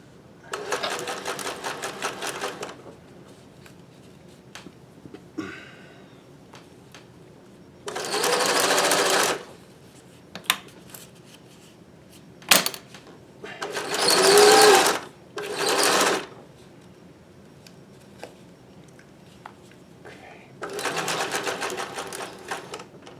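A Singer 411G sewing machine chain stitches rubber-backed fabric in several short, loud runs of rapid clattering, separated by quiet pauses with small clicks and snips.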